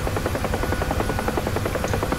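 A UH-1 Huey helicopter in a flight simulator game produces a loud, steady rotor thump with a rapid, even beat over a continuous turbine roar, with no voices over it.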